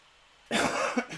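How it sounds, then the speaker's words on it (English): A single harsh cough from an adult on immune-suppressing medication, close and sudden after near silence, with a short second rasp near its end. "That was my cough"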